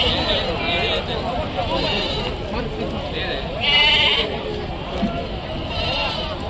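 Goats bleat at a rural livestock market in Rajarampalli, the calls rising out of a dense crowd murmur, with one louder, nearer bleat midway and people talking steadily throughout.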